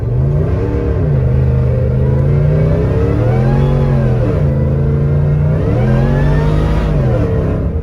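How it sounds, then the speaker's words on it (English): A truck engine revs steadily and loud, its pitch rising and falling in waves as the tires spin, with no voices. "This truck just spins like crazy"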